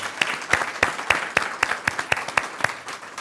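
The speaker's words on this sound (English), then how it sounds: "let's give Vilma another round of applause" An audience claps after a college talk, with steady, close applause of many hands throughout and no voices over it.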